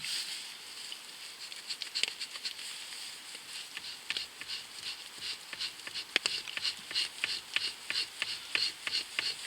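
Light, rapid rasping of a knife spine scraped across wood to raise fine shavings, a steady run of short scratchy strokes close by with no talking.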